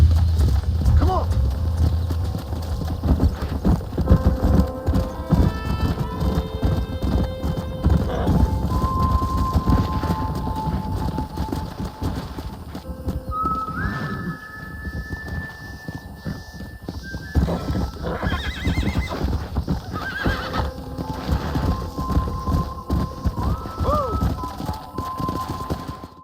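Horses in the Western video game Red Dead Redemption, steady clip-clop of galloping hooves with whinnies and neighs rising over a music score, voices talking intermittently throughout.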